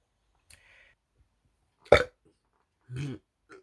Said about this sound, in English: Will you stop fucking burping?